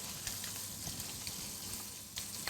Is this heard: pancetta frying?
yes